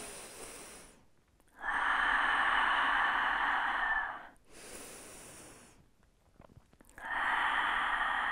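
Slow, deep breaths during a Pilates stretch: a long, airy inhale followed by a drawn-out exhale, then another breath beginning, heard close and steady with no talking over it.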